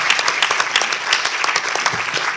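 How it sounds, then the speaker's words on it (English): Audience applause for contributors at a GMO risk evaluation event, a crowd of hands clapping briskly and loudly with individual sharp claps standing out in the texture, no talk over it. "give everyone a big round of applause, yourselves and the contributors"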